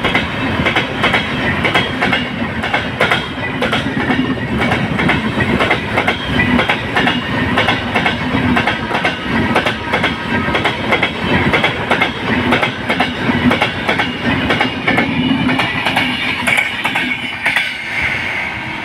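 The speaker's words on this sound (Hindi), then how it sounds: "यहाँ पर नॉन स्टॉप पूरनपुर स्टेशन से ये ट्रेन्स निकल रही हैं" The Champaran Satyagraha Express roars non-stop through Puranpur station, a loud steady rush of rolling wagons with continuous clickety-clack from the wheels over rail joints, running unbroken for the whole stretch with no talking.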